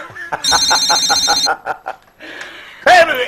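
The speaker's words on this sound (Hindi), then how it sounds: "हो सकता है रितु का फोन हो" Telephone bell ringing at home in a Hindi sitcom, a fast run of repeated ring bursts close by, then a pause and sharp household sounds.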